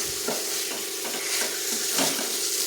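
Chicken frying in a pan for a simple gravy, a continuous dense sizzle with rhythmic scraping strokes of a spoon stirring the pieces, close and steady with no talk.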